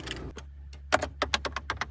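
A series of crisp plastic clicks from the climate control buttons of a 2005 Toyota RAV4, about a dozen quick presses in an uneven rhythm, close up and fairly quiet, with no talking.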